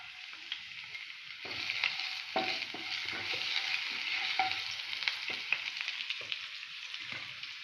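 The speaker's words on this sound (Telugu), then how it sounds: "అందుకే పచ్చిమిరపకాయలు కూడా వేసేస్తున్నాను ఒకటేసారి" Green chillies frying in hot oil in a home kitchen pan, a steady close sizzle with bursts of spattering and a few stirring scrapes, no voices.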